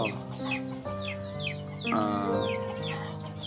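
A green junglefowl hybrid rooster crows nearby in several drawn-out calls, mixed with clucking from other fowl, with no human voices.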